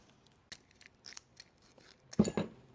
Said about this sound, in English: So let me get a pair of scissors.